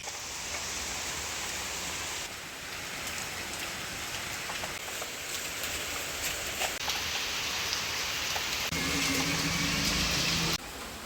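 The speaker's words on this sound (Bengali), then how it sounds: "আর বৃষ্টি দিয়ে কিন্তু জোরে জোরে শুরু হয়ে গেছে" Heavy rain pours down in a village near the India–Bangladesh border, a dense continuous hiss of drops on surfaces, steady and loud throughout, with a faint low rumble late in the clip.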